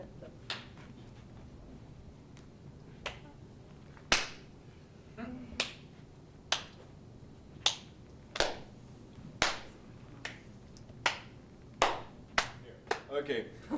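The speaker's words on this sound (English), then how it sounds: "It's the game that you send a clap to somebody, that receive it, and send it to somebody else." Sharp hand claps passed from person to person in a theatre game, about a dozen single claps at irregular intervals over a low room hum, some louder and closer than others.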